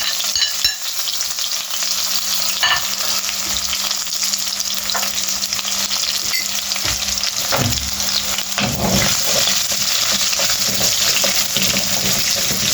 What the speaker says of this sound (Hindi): इसको हल्का सा फ्राई करेंगे लहसुन का